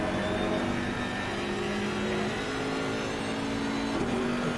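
BMW GT3 race car in the Assetto Corsa Competizione sim at Monza, its engine droning steadily at high revs, loud and continuous with a slight pitch rise near the end.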